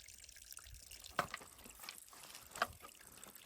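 Spring water on a trail runs through a leaf spout and splashes steadily with a close, bright patter, with a couple of sharper drips standing out.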